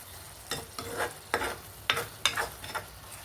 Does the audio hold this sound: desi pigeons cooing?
no